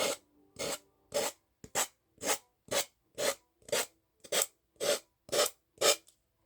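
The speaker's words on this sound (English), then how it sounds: "you want to sand" Steady rhythmic sanding strokes on a small wooden tiered tray, about eleven short rasping passes in even succession, close and clear with no talk.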